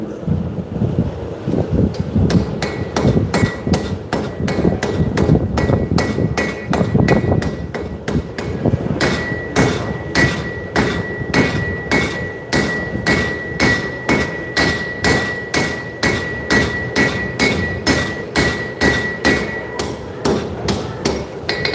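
Hammer strikes on hot metal at a live blacksmith forging demonstration at a show, struck in a fast steady rhythm of ringing blows, loud and close, with no talking.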